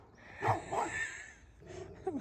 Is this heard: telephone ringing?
no